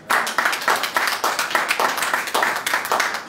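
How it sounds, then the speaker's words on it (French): A church congregation applauds at a French-language sermon, with close, rhythmic rounds of hand clapping pulsing steadily throughout. "Mon frère, ma soeur, oh, est-ce qu'on peut l'acclamer?"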